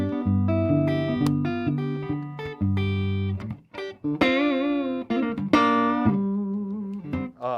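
A Reverend Contender 290 electric guitar on its neck P90 pickup plays through a clean amp, with a run of distinct picked notes and chords ringing out clearly, some sustained and bending, with no talking.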